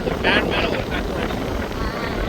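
Strong wind during the Aadi month buffets the microphone outdoors in heavy, continuous rumbling gusts that swell loudest near the start.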